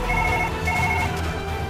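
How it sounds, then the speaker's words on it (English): A telephone rings steadily in Surgeon Simulator 2013 during an operation, a bright electronic trill that repeats over a low, busy background. "I can't answer the phone right now."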